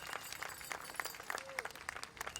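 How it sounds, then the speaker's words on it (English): Applause for veterans and color guards at an outdoor waterfront powwow in Vallejo: a crowd claps steadily and continuously, sounding moderately distant, with faint background murmur. "Oh, give them a big round of applause."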